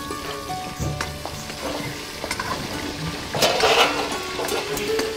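Chicken fries in oil in a kadai, crackling and sizzling in uneven bursts, with a few clinks of a utensil and a louder spitting surge partway through.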